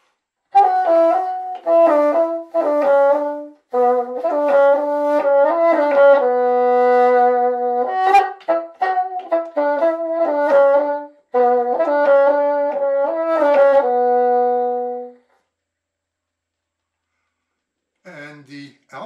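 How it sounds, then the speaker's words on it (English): A solo bassoon plays a lyrical melodic excerpt from Rimsky-Korsakov's Scheherazade in its tenor register, with clear sustained notes in phrases for about fifteen seconds, then silence and a brief voice at the end. "And bassoon sounds like this in the tenor register, and this is an excerpt from Rimsky-Korsakov's Scheherazade."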